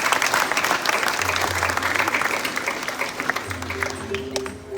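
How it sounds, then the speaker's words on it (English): A crowd at a Dreamworld animal presentation claps in a sustained round of applause, dense and steady, with low tonal hum and faint voices underneath toward the end. "How about we start off right now with a nice big round of applause"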